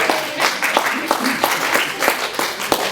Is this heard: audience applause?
yes